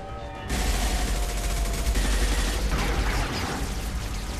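Rapid sustained gunfire in a Mass Effect 2 firefight, dense overlapping shots and booms that start abruptly and stay loud and continuous throughout.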